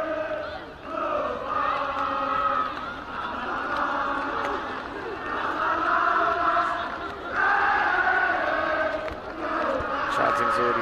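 Crowd at a college rugby league Premier Boys final chanting and roaring steadily throughout, a dense wall of voices with a surge partway through, heard from the commentary position.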